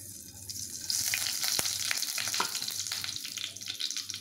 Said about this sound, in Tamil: தாளிக்கிறதுக்கு வந்துட்டு கடுகும் வெந்தயம் மட்டும் போட்டுக்குவோம்.